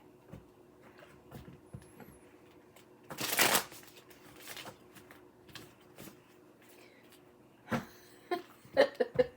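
A deck of cards is shuffled close by: one loud riffling burst near the start, then softer scattered card flicks and a quick series of taps toward the end, with no talking.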